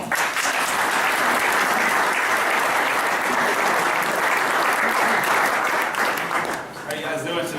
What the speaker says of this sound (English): Please join me in welcoming Mr. Justin Allen.